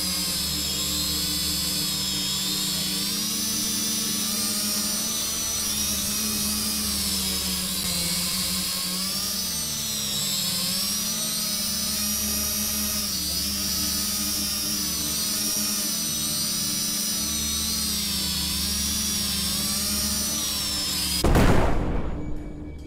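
A drone hovering in the video game Kill It With Fire gives a continuous buzzing, whirring drone with wavering pitch, loud and steady throughout, ending in a brief burst of noise.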